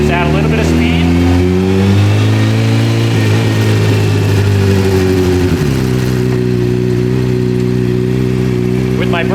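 Motorcycle engine on a powersports dyno, loud and continuous: revs climb steadily for several seconds, then drop and hold at a lower steady pitch, with a brief blip near the end.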